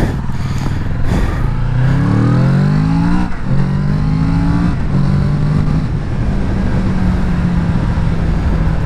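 A Kawasaki Z650 (2017, 35 kW restricted) motorcycle engine revs up through rising pitch sweeps, shifting and climbing again, loud and close, then settling into a steady drone.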